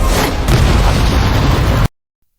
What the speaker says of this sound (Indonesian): Dia langsung cast sihir ledakan area buat nyapu bersih mob.